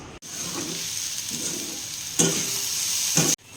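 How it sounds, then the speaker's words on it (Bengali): Eggs frying as a poached-style fried egg in a pan, a steady close sizzle with a few louder spitting bursts and stirring scrapes, no voices. "এখন ডিম ভাজছি ডিমের পোচ"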